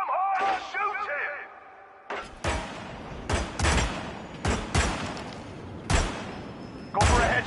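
Gunfire as a loud series of about eight sharp, close shots at irregular intervals, following a brief voice at the start.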